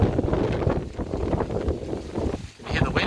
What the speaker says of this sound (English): Can you hear the wind? It's been like that all day.